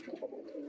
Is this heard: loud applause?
no